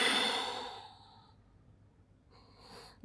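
Deep exhale during a Pilates rest pause, a long close breath fading over about a second, then a faint quieter breath near the end, alone with no talk.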